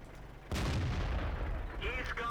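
A tank gun firing in World of Tanks, one sudden heavy boom that rolls into a long rumbling tail, loud and close, followed by faint metallic game effects.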